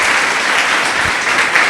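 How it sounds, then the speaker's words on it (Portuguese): A church congregation claps loudly and steadily during a sermon service, a dense uninterrupted wash of close applause with no distinct voices. "Louve ao Senhor com suas palmas bem forte"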